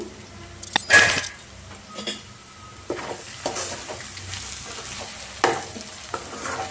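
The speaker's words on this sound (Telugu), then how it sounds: "ఇప్పుడు ప్లేట్ తీసి ఒకసారి కలుపుకుందాము" Potato and green chilli fry being stirred in a pan, with a sharp clatter of a lid or plate near the start, then intermittent scraping strokes over a soft steady sizzle.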